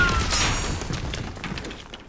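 A bomb blows up in a PS4 video game round, a dense burst of rumbling blasts and crashing debris that starts loud and slowly decays over about two seconds.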